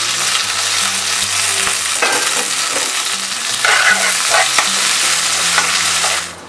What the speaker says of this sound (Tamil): கடுகு நல்லா வெடித்ததும் நிறையா பூண்டு போடுறேன்.